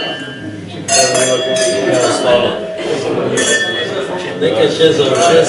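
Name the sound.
glasses of Ptuj wine clinking in a toast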